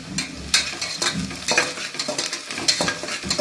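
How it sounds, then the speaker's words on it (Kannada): Green chillies fry in a pan for tomato bath, a moderate sizzle broken by frequent scraping and stirring strokes with a spoon against the metal, irregular and close. "ನೆಕ್ಸ್ಟ್ ಈಗ ಹಸಿಮೆಣಸಿನ್ಕಾಯಿ ಹಾಕೊಳ್ಳಿ. ಅದನ್ನು ಚೆನ್ನಾಗಿ ಫ್ರೈ ಮಾಡಿ"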